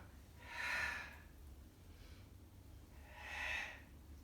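Two slow, breathy inhalations during a Pilates mat exercise, soft and close, each swelling and fading with a pause between them.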